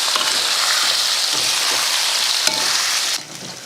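Ingredients frying lightly in a little oil in a kadai: a loud, dense, steady sizzle that cuts off abruptly to a quieter hiss near the end.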